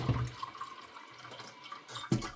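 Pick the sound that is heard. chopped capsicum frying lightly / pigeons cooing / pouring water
pouring water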